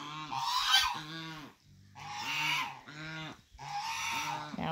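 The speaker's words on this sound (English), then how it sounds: "These are the two geese, the two new Chinese geese" Two Chinese geese on a farm give loud, close honks in several repeated bursts with short pauses between them; no one speaks over them.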